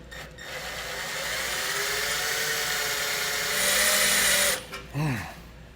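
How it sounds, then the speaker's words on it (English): A power drill with a quarter-inch bit whines steadily while boring a hole in very hard material on a 2011 Jeep Patriot, its pitch rising as it bites harder, then spins down briefly and restarts. "So now we're going to drill a hole here in the bottom."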